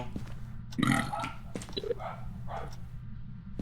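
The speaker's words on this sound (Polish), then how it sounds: "Fazmofobia to jest idealne miejsce do bekania twojego, tak." A single loud, close burp erupts from a player during a session of the ghost-hunting game Phasmophobia, followed by softer grunting mouth sounds and low background noise.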